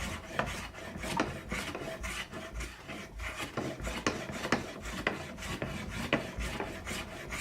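Close, steady rasping of wood as a flame maple guitar neck is scrubbed and shaped by hand, with repeated rhythmic strokes scraping back and forth, loud and continuous with no talk.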